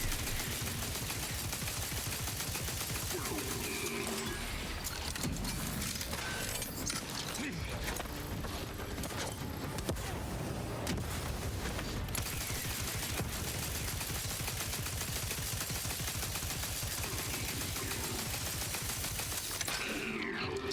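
Minigun fire in the video game Outer Worlds 2, a dense, continuous rattling roar of rapid shots that runs near and loud for most of the stretch with little break, mixed with game mechanisms.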